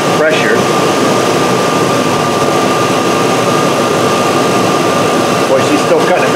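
A Chevy truck engine running rich with codes P0172 and P0175 idles slightly high, giving a steady, loud droning hum with a faint whine on top, close by and unbroken.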